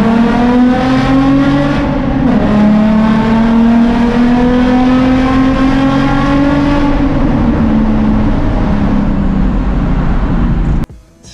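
A car engine, with a leaking clutch slave cylinder, runs loudly nearby with rising and falling revs, a strong droning tone climbing and easing back, then cutting off abruptly at the end.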